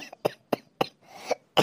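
A person coughing in several sharp, separate bursts at close range, with short pauses between each cough and a slight throat-clearing quality.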